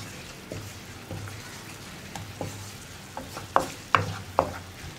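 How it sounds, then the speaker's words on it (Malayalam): Chili powder and spices stirred in a pan over a low flame for dried mango pickle, a soft steady sizzle broken by several sharp spoon scrapes and taps near the end. "ലോ ഫ്ലെയിമിൽ വെച്ചിട്ട് ഇളക്കി കൊടുക്കുക."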